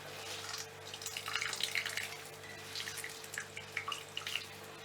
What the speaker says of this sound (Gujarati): થોડું થોડું હાથમાં લઈ અને આપણે પાણી છે એ કાઢતા જઈએ